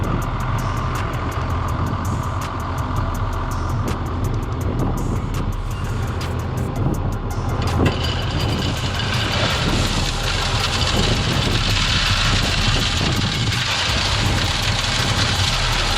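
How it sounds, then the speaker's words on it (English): An old plow and sand truck from Colorado Springs spreads road base over a long driveway, its engine rumbling loud and constant with a hissing, rain-like patter of gravel pouring throughout, no talking. "That's an old plow and sand truck from Colorado Springs"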